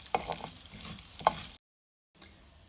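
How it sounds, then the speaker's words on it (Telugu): Urad dal frying in a pan: soft scraping stirs and a faint crackling sizzle, with a few louder clinks, heard close but quiet before a brief silent gap. "ఫ్రై చేస్తాం."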